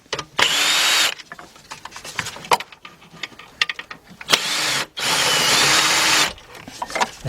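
A power tool drives a 10mm deep socket to remove the bolts holding a BMW starter, giving two long steady whirring runs split by short bursts, clanks and ratchet clicks, loud and close.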